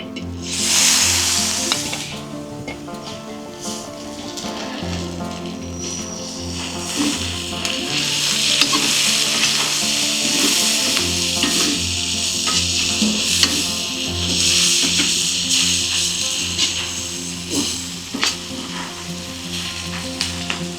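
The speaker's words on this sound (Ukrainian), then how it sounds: "трошки ми протушили цибульку з м'ясом" Onion and meat sizzle and stew in a kazan outdoors in hard frost, a continuous close frying hiss with occasional stirring scrapes and taps throughout, no talk.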